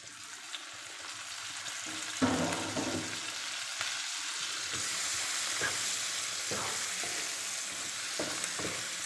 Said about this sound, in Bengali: এখন এর মধ্যে আমি চিংড়ি মাছগুলো দিয়ে দেবো